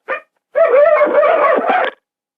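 A dog on a farm gives a short yip, then a drawn-out whining, howling bark that lasts over a second, close and loud against silence.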